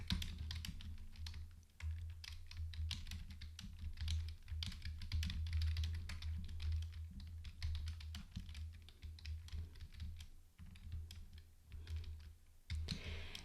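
Steady typing on a computer keyboard, rapid light clicks in uneven bursts with brief pauses, close and fairly quiet over a low hum, no voices.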